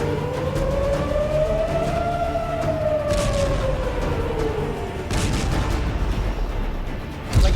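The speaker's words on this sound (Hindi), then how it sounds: "6-7 बार अभी तक सायरन बज चुकी है और बार बार सायरन बजती है।" An air raid siren wails during an attack in Israel, its loud tone slowly rising and falling, with heavy rumbling bursts breaking through partway, and no talk.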